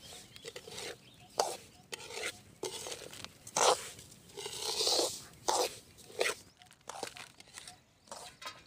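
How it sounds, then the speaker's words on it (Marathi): Semolina roasting in oil over a low flame while being stirred, producing soft intermittent scraping and gritty rasping strokes in an irregular rhythm, close and fairly quiet. "तर हा कमी जाळावरती भाजून घ्यायचा आहे"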